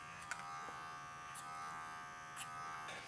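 Electric hair clipper cutting hair over a comb during a classic slick-back barbershop cut, a steady quiet buzz with faint brief strokes, with no talking.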